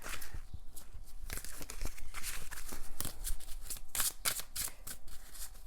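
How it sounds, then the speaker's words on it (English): Tarot cards are shuffled by hand in a series of papery riffles and rustling bursts, close and crisp, with occasional louder snaps of cards and no speech. "So let me shuffle some more cards for you guys."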